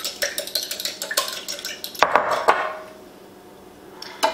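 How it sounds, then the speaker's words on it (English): Eggs beaten in a bowl at home: a quick run of clinking, tapping strokes against the bowl, then a brief louder scraping swirl before the sound fades to near quiet. "We're going to beat our eggs that are in our bowl."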